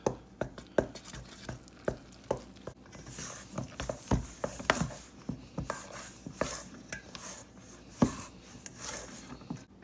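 Sourdough pan-pizza dough, flour with sourdough starter, is stirred by hand in a bowl. It makes soft, uneven sticky slaps and scrapes with sharp utensil knocks against the bowl, close and fairly quiet.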